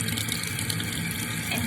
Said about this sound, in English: I'm running it under hot water